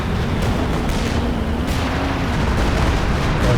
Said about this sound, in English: Stuka with a barrage